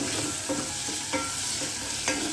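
A potato and butter bean curry base sautés in a pan with a continuous soft sizzle, punctuated by a few regular spatula scrapes as it is stirred; no voices are heard.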